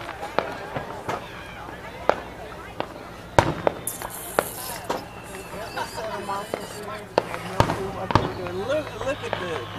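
Fireworks set off in Nashville on the Fourth of July pop and crackle in scattered sharp bangs, some near and loud, others fainter, while people talk and shout throughout.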